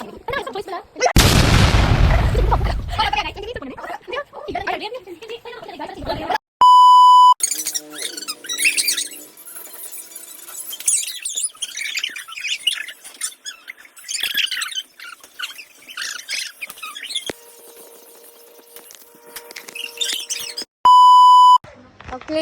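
Two loud, steady censor beeps, each lasting about a second, cut through ongoing speech in a casual birthday vlog, with chatter and noisy bursts around them.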